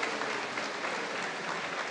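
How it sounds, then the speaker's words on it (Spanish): Steady, dense applause from an audience at an outdoor church celebration in La Isabela, a continuous wash of many hands clapping at moderate distance with no voices on top. "Nuevamente damos un aplauso y despedimos"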